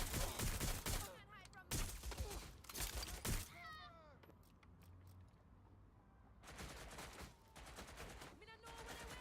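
Bursts of gunfire from the video game Watch Dogs Legion crack out in quick clusters at the start and again near the end, loud and close, with a brief spoken line in between and game ambience underneath.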